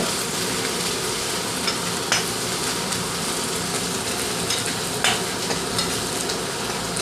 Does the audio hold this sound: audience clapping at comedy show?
no